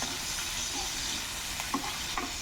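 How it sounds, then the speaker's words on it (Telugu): Dried prawns fry in a pan with a steady, dense sizzle and faint crackles throughout, close and moderately loud, with no voices. "రొయ్యలు బాగా మారకూడదు దొర దోరగా వేసుకోవాలి సువాసన బాగా వస్తుంది"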